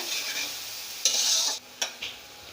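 Onion paste frying in a pan, a soft continuous sizzle punctuated by a few sharp spatula scrapes and clacks as it is stirred.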